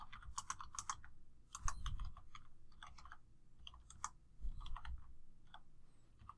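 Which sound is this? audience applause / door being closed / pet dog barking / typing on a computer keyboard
typing on a computer keyboard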